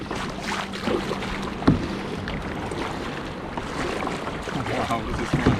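A Jonny Boat fishing kayak is paddled through choppy water in bad weather, with wind buffeting the microphone, splashing strokes and sloshing waves close by.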